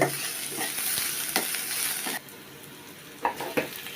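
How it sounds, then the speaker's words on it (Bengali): Onions sizzle in hot oil in a pan while a utensil stirs them, a steady frying hiss that cuts off abruptly halfway, followed by quieter scraping and a couple of clinks. "আমাদের পেঁয়াজ ভাজা হয়ে গেছে"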